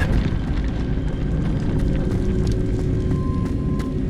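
A Confringo fire spell blasts in the video game Hogwarts Legacy, a loud sustained booming roar of flame with a dense low rumble and crackling bursts throughout.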